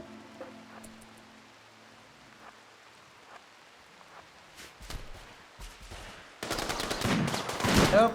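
Gunfire in the combat game Rimworld, sparse faint shots at first, then a sudden loud dense burst of rapid automatic fire crackling for the final seconds.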